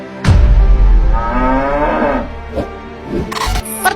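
A cow gives one long, loud, close moo with a rising and falling tone, followed by a few short clicks and rustles.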